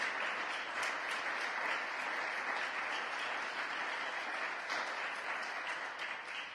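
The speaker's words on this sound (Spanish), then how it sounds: "dale un aplauso precioso a Jesús" A church congregation applauds steadily for several seconds, a dense, even wash of clapping that holds without a break.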